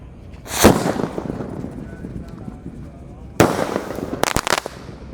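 A jumbo Roman candle firework fires with a sharp loud bang, then after a pause more booming shots and crackling bursts follow close by. Ramadan night setting, outdoors.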